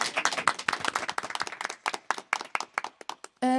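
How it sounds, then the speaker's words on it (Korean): A radio studio audience claps enthusiastically in a quick burst of applause before a live band's song, close and loud, cut off by the start of music at the end. "큰 박수로 청해 듣겠습니다."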